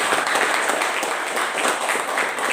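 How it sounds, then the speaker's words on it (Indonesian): A class of students applauds a classmate's answer during a school lesson, with dense, steady clapping that fills the room evenly from start to finish. "Kita berikan tepuk tangan buat Plani."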